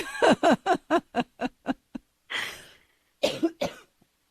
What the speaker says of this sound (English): I got my little cough going there